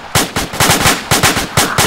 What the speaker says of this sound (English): They're shooting out south.